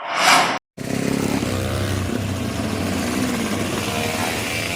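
Road race motorcycles prepare to race at a street racing championship in Malinau Regency. A short loud burst cuts off abruptly, then a steady, close engine drone with a buzzing, pulsing texture carries on without speech.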